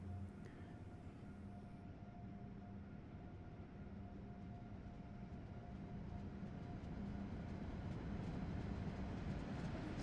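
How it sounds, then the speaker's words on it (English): A train in Train Sim World 3 rumbles through a tunnel next to the listener's train, a continuous, dense roar that builds slightly over time. A faint steady tone runs through it. "There's another train going through the tunnel next to me."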